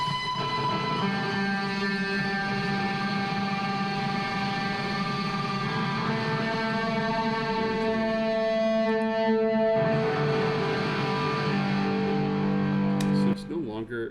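A sustained harmonic music passage bathed in wide, spacious reverb, tones smearing and ringing on before a sudden cutoff near the end.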